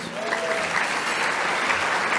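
An audience at an awards luncheon breaks into sustained applause, a dense, even patter of many clapping hands heard up close and holding steady throughout.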